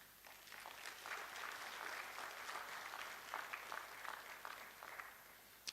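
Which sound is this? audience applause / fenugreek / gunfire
audience applause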